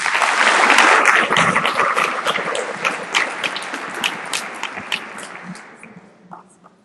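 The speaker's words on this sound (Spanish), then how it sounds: "Recibimos al doctor David Bobadilla con un fuerte aplauso." An audience applauds as a speaker, Dr. David Bobadilla, is welcomed to a lecture at a Pontifical University institute of religious sciences; dense, loud clapping swells at first, then gradually thins and fades out, with no talking over it.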